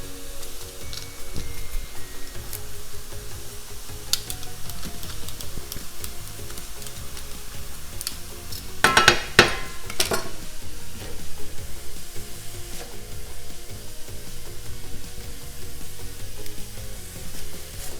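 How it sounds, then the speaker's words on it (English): Ground beef browning in a pan, a steady close sizzle with scattered crackles and a brief burst of sharper pops midway. "while the meat is still browning, I'll go ahead and crush in the garlic"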